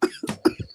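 Two quick double coughs, close and fairly loud, with short gaps between them and no talking.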